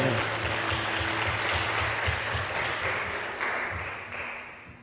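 A church congregation applauds, steady dense clapping that stays even and then slowly fades toward the end, with a low rhythmic pulse beneath it.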